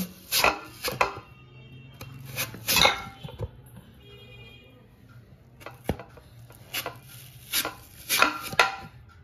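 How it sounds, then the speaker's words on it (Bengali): Potatoes are cut on a hand-operated cutting machine, giving sharp chopping clacks in uneven bursts, with a dog barking now and then in the background and quiet gaps between strokes. "এখানে আমি হ্যান্ড মেশিনের সাহায্যে আলুগুলোকে এইভাবে কেটে নিয়েছি।"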